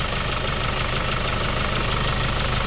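A Hyundai Starex D4CB diesel engine with a blow-by problem runs loud and close, hammering out a steady knocking rhythm that never lets up.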